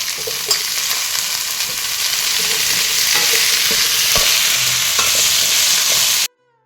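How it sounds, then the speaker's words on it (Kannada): Eggplant and onion fry loudly in a pan, a strong continuous sizzle with clicks and scrapes from a stirring spoon, ending abruptly in silence. "ಈರುಳ್ಳಿ ಜೊತೆ ಹಾಕಿ ಹುರ್ಕೊಳ್ಳೋಣ"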